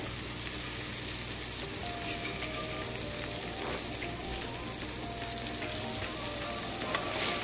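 Lime pickle stirred in a pan over a low flame, a dense steady sizzle with scraping mixing strokes close by, under a faint musical tone and no speech.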